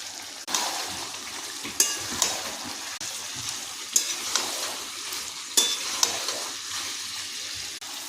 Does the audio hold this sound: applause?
no